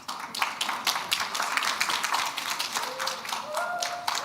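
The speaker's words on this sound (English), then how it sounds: "A round of applause, please" Audience applause for a speaker at a business empowerment conference, a steady dense patter of many hands clapping continuously, with a brief tonal sound rising near the end.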